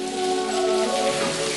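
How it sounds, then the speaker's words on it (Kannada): Steady rain pours down at an outdoor spot, a dense continuous hiss of drops striking surfaces, with soft sustained tonal notes running beneath it throughout. "ಈ ಜಾಗ ಅಂದಿದ ತಕ್ಷಣ ಮಳೆ ಬಂತು"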